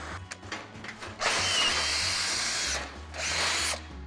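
A handheld power drill bores into a workpiece in a shop, running loud and close in a sustained whine for a couple of seconds, easing off briefly, then spinning up again, with a low engine-like hum underneath.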